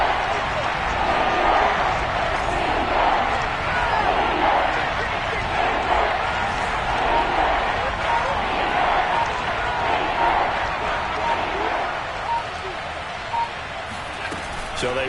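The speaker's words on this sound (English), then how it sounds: "Crowd getting in it a bit already." Stadium crowd at a Bills vs Dolphins NFL football game, a steady broad roar of cheering and murmur that holds throughout at fairly high level, easing slightly near the end.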